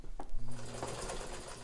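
A mint-condition Necchi Supernova Ultra sewing machine stitches a wide zigzag at the longest stitch length, starting with a brief mechanical clunk and then settling into a steady, close whirring run with no talking.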